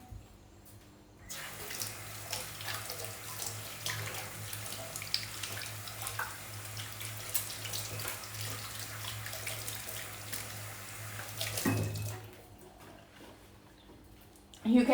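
Kitchen tap running steadily for hand washing, a continuous soft rush of water with faint splashes and rubbing, then turned off near the end.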